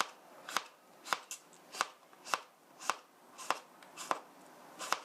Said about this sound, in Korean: 이렇게 오이 써는데 오이 다섯 개 써는데 한참 걸리네요